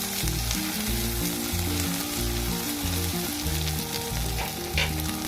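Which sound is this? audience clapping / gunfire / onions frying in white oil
onions frying in white oil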